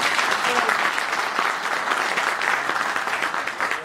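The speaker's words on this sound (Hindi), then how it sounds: "उसी तरह हर महफिल को ताली पसंद होती है।" A corporate dealers' meet crowd in Delhi claps for the host, dense, lively applause from many people that stays loud and fairly close, with faint voices mixed in beneath the clapping.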